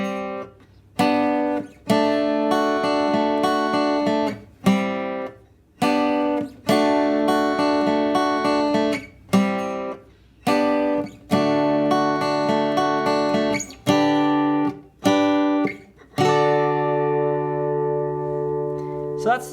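A guitar plays a bass line as a steady run of plucked low notes in repeating phrases, each one separated by short gaps, and a final held note rings out at the end. It sounds clean, close and moderately loud.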